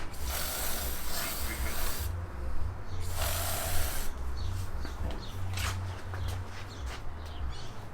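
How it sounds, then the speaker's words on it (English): Silicone lubricant spray hisses in several bursts, short and longer, close by, over a low rumble and faint clicks, during replacement of a Mercedes W205 LED headlight. "I like to lube up my gaskets normally, but I have spray over there."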